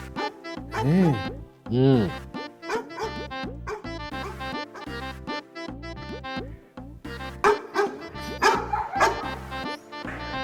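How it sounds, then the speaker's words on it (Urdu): Several dogs bark and yip repeatedly in close, overlapping bursts, some barks rising in pitch like whimpers, with voices talking among them. "اب یہ کتے کیوں بھونک رہے ہیں؟"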